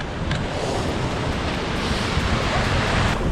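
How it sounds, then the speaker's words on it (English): Big cold North Sea waves at Sunderland roll in a steady, dense broadband roar of surf, loud and close, with wind buffeting the microphone throughout and no distinct breaks between swells. "The waves are quite big."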